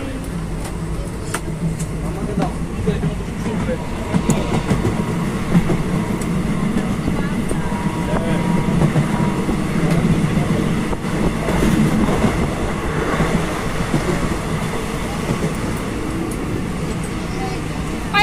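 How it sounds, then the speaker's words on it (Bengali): Inside a moving passenger train on the way back from Mayapur, a continuous loud rumble and rattle of the carriage with faint clicks of the rails, while people talk nearby. "ট্রেনে যাইতেছি।"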